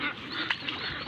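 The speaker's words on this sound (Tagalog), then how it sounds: "ito na nga po yung mga alagang itik natin" Pet ducks, in a pen flooded after heavy rain, give a short burst of nasal honking quacks close by, a couple of calls in about a second, with no talk.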